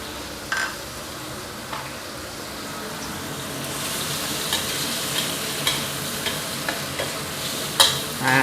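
Shrimp and squid stir-fried in a hot pan for a spicy Thai seafood dish, with a steady sizzle broken by occasional sharp scrapes and clacks of the spatula, close and fairly loud with no talking.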